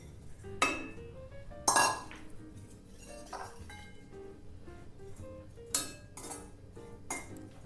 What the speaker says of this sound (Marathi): सर्वात पहिले आपण खोबरे भाजून घेणार आहोत